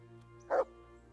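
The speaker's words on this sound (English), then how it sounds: "Dog." A single short dog bark in the medieval role-playing game Kingdom Come: Deliverance, one quick yip near the middle, moderately loud over a steady low background drone, with no one speaking.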